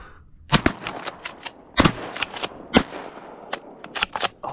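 Sharp, loud shotgun blasts ring out on a marsh duck hunt, about a dozen cracking reports in quick irregular succession with short echoing tails and no talking.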